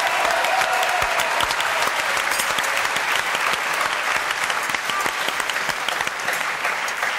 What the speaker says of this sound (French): Ah, mais messieurs, ça s'applaudit.